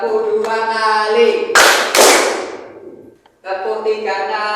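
Two sharp, loud claps from a class playing a clapping game, close together, set between stretches of a voice talking.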